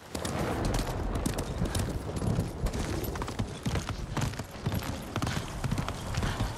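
A horse in Ghost of Tsushima trots with a quick, steady clip-clop of hooves, close and continuous for several seconds, with a faint rustling bed behind.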